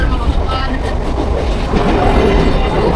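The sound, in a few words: train running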